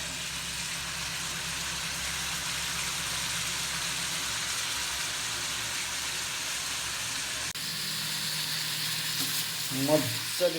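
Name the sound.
pork meat frying and being stirred in a pan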